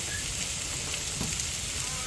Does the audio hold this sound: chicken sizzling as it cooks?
yes